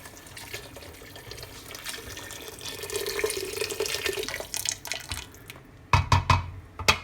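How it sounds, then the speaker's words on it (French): Water runs steadily from a tap into a pot being readied for cooking rice with vegetables, a continuous close splashing stream that ends in a few sharp drips and clinks. "Je vais y incorporer l'équivalent d'1 litre d'eau."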